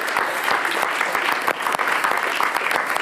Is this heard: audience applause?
yes